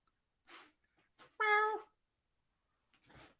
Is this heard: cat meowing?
yes